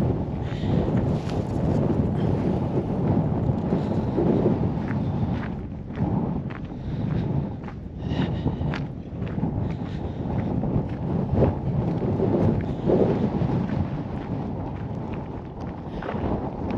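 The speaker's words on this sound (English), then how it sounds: "If it wasn't for the wind, I could endure the cold temperatures. But the wind is just biting." Strong, biting cold wind at Cape Norman Lighthouse in Newfoundland in April, roaring steadily into the microphone for the whole stretch as a loud, continuous buffeting rush with no talking.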